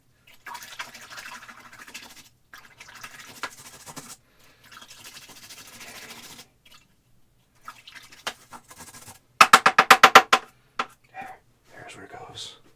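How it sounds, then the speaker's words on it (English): An oil paint brush is swished and tapped in rinse liquid, giving a close burst of rapid rhythmic knocks and splashy scrubbing after stretches of quieter brushing and a voice speaking. "let's go ahead and rinse off this brush. Get all the paint off of it."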